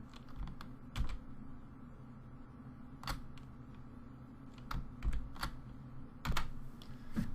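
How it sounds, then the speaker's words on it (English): Keys on a computer keyboard are typed in scattered, irregular taps, fairly close but quiet over a low background hum. "let me just try typing question mark"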